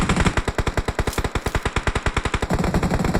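Rapid automatic gunfire from a video game shooter, loud sustained bursts of evenly spaced shots filling the whole stretch with no talk over it.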